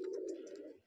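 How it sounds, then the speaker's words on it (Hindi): Large-bodied pigeons, including white and red birds of Punjabi Malwai, Madrasi and desi types, coo softly inside a cage in one low, steady, close call with no talking. "ये देख लीजिए इसके अंदर दो तो ये वाइट है बिल्कुल बड़े बदन वाले कबूतर"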